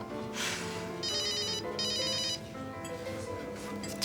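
A mobile phone rings in a restaurant, a repeating electronic ringtone melody in short pulsing bursts, moderately loud and close, with faint background murmur.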